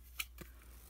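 Scissors snipping paper for a Stampin Up Christmas card, one crisp close cut followed by a fainter second snip in a quiet room.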